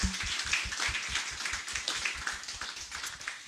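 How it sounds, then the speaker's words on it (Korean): An audience applauding at a youth participation forum, a run of brisk, close claps at a steady rhythm that tapers off gradually. "다시 한번 박수 부탁드리겠습니다"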